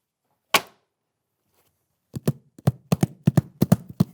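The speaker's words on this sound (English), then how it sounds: "Oh, that's a horse." A horse sound effect played in a kids' guessing game: one sharp knock, a pause, then a quick run of hollow clopping hits in a galloping rhythm, close and clear.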